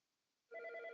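A telephone ringtone sounds mid-lecture, starting abruptly after a quiet moment and continuing as a steady, loud electronic ring with bright sustained tones.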